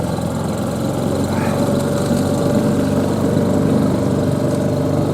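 A motor engine running at a steady idle, a loud continuous low drone with a mechanical hum that holds evenly throughout, no voices.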